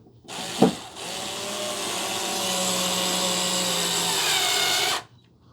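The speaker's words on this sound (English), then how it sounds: "Helps if you got like a little drill to kind of push them in and turn them." A small power drill drives wood screws into a panel of a Real Flame Churchill 51-inch corner TV stand, a loud continuous whirring run of about four seconds after a brief bump, then stopping.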